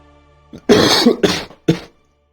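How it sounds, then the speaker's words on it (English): Three sharp, close coughs in quick succession after a brief throat sound, then silence. "Cough, cough, cough."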